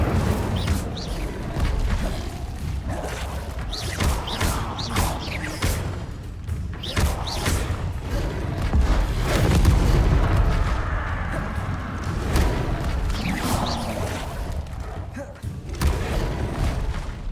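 Incendio fire spells are cast repeatedly in Hogwarts Legacy, producing heavy, booming thumps and whooshing bursts over a dense, continuous game soundscape.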